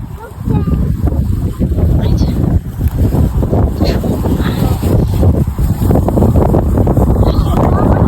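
Strong wind blowing across an open farm field in a Belgian village, a loud, continuous rumbling buffet on the microphone with gusts rising and falling, while people talk faintly over it.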